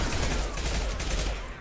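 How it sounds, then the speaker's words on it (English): Impact shot gunfire in Mass Effect 3, a dense sustained barrage of rapid shots with heavy low rumble, loud and continuous throughout. "Firing an impact shot!"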